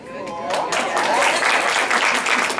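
Audience applause for someone speaker at a talk, swelling quickly after a brief moment of her voice into a loud, dense, sustained clapping that fills the rest of the moment.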